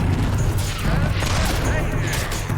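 Gunfire rings out while shooting at a troll in the video game Fable 2, a loud, dense stream of game combat noise with booming low end running steadily throughout, mixed with sounds of the game's action.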